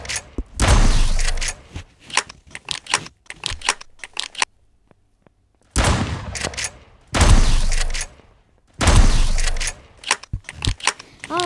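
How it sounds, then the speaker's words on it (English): Pump shotgun blasts in the online shooter 1v1.LOL, loud broadband bursts in several clustered volleys with short gaps and a brief silent stretch in the middle, no talking. "Yeah, that's the pump shotgun."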